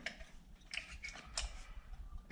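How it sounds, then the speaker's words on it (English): A foam adhesive gun pumped to lay a bead into a seam in OSB sheathing for gluing XPS insulation, giving faint mechanical clicks and squeezes in an irregular rhythm, close and quiet, with no talking. "putting a bead of caulk, or not caulk, but foam adhesive, pump some up into it"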